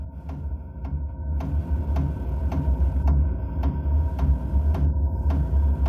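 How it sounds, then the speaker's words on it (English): The fuel pump of a BougeRV 5kW diesel heater starts up with a series of crisp, regular ticking clicks, about two per second, sounding over a steady low humming drone. "Now the pump is starting."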